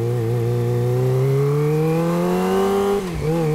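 A Kawasaki ZX-25R fitted with a WRX exhaust revs up in one long, rising, high-pitched wail, then dips briefly and picks up again, loud and close with no talk.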